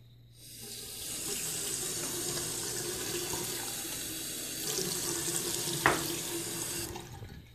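Water runs steadily from a tap in a continuous broadband hiss, close by, with a brief clatter near the end.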